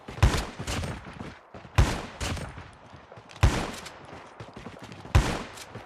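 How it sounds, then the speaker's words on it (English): Call of Duty Mobile hip-fire gunfire at bots comes as four evenly spaced bursts of shots about every 1.7 seconds, each a sharp crack trailing into a short rattle, at moderate volume with no talking. "So you can practice your ADS on the bots, and then your hip fire"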